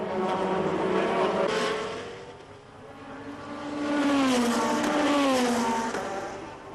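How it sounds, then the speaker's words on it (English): GT race cars, including a Corvette, roar past in an International GT Sprint race, loud engine howls rising and falling as the cars pass, with pitch climbing through the gears. "Pole winner Andrea Palma gets the best start and jumps straight into the lead then from Barry and the surprising Corvette driven by Del Castello"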